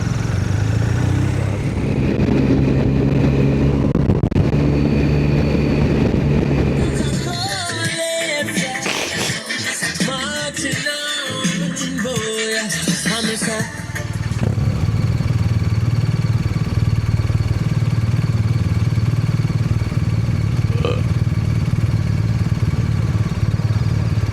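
A BMW R1250RT motorcycle on a ride toward Weymouth and Portland Bill drones steadily and loudly up close, broken midway by several seconds of harsher, rushing clatter before the low engine hum settles back in, with no talking.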